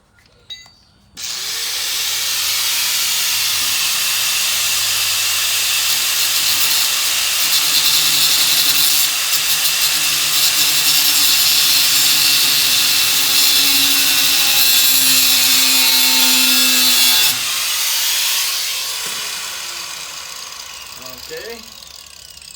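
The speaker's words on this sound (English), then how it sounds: "just take my grinder and just cut that little ear off," A grinder cuts a metal ear off a wheelbarrow in one long, loud, continuous screech lasting nearly twenty seconds before spinning down.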